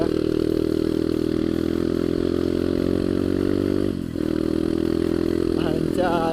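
A bored-up Kawasaki KLX engine drones steadily under load climbing a hill in third gear, a constant throaty roar with a brief dip partway through before it resumes.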